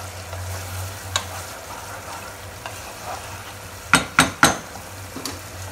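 Spices fry in a pan with a steady, close sizzle while being stirred, with several sharp metallic clanks of a spoon against the pan in quick succession toward the end.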